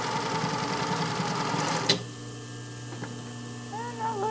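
A home sewing machine stitches fabric in a fast, steady whirring run for about two seconds, stops with a sharp click, and leaves a quiet room with faint, distant tones afterward.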